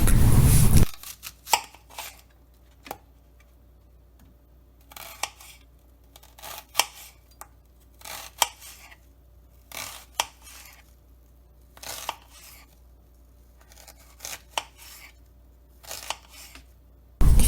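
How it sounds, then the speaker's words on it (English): A knife chopping potatoes into wedges on a board, sharp separate cuts at irregular intervals, close and distinct over a quiet background, with no talking. "I had to cut up each potato into 8 wedges"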